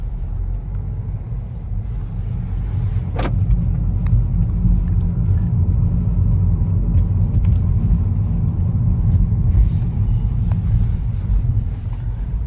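A car driven without a steering wheel, turned by a special control device, rumbles along with a steady low engine and road noise, plus a brief sharp click early on, with no talking.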